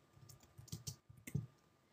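Keys tap on a computer keyboard while text goes into a word-processor newsletter, a few quiet uneven clicks in short bursts against near silence.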